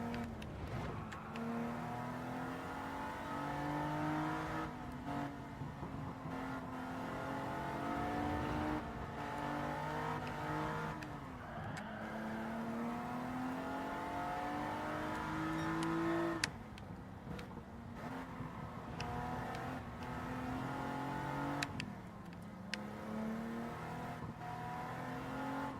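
An Audi race car engine in Gran Turismo 7 revs and shifts repeatedly, its pitch climbing and dropping in waves through gear changes, steady and up close.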